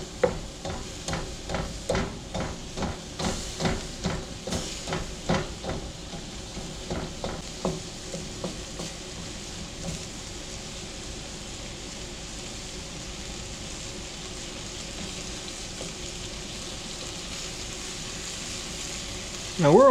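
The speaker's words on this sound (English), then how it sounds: "Now we're only cooking these onions for about 5 minutes." Sliced onion rings sizzle steadily in a hot pan for a beef and broccoli stir fry, with a run of sharp clatters and stirring knocks early on before the frying settles into an even hiss.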